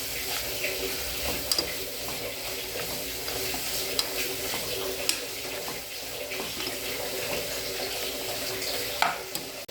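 Soya biryani masala with whole black peppercorns frying in a pan: a steady, close sizzle with occasional stirring scrapes and small clinks, with no voices.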